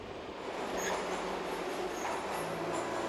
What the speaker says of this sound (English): there's a train every minute